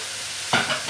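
Ginger and onions hit a hot pan halfway through, bursting into a loud sizzle with stirring after near silence; a generous amount of onions goes in for a home-cooked chicken and vegetables dinner.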